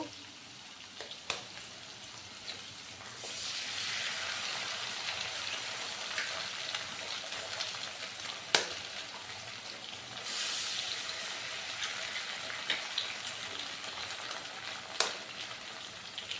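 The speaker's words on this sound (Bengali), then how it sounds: "এবার এর মধ্যে আমি ডিমটা ফাটিয়ে দেব।" Eggs cracked into a pan of half-fried onions, filling for stuffed pointed gourd; a continuous gentle sizzle swells as they hit the hot oil, with a couple of sharp clicks from the utensil and no talking.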